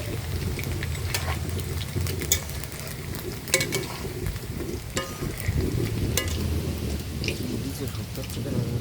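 Chicken pakoras frying in hot oil, a steady bubbling hiss throughout with scattered crackles and stirring clinks, heavy rain and rumbling thunder outside layered over it on a stormy day.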